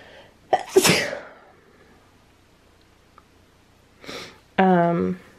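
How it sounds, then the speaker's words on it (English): A single loud, sharp sneeze bursts out early during a quiet moment of dressmaking work on an 18th-century robe à l'anglaise, followed a few seconds later by a short breathy noise and a brief stretch of speech. "I have to sneeze"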